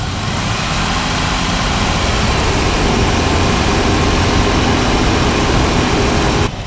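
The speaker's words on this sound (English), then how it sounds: "Gonna give it a little bit of a revs so the refrigerant can cycle around." A car or truck engine running while its A/C system is recharged with refrigerant, a loud, steady, close rumble held throughout with no talking.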